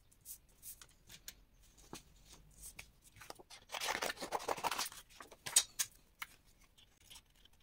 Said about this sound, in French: je vais découper ensuite tout autour